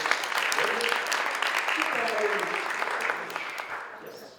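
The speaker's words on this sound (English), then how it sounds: "Clap your hands for radio." Studio audience applauding during a live radio broadcast at Radio dani on Zlatibor, a steady wash of clapping with voices speaking over it, fading slightly toward the end.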